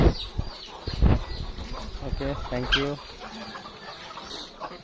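Chickens and ducks in a farmyard fighting, with rapid clucking calls and wing flapping, close and busy; a person speaks briefly over the commotion.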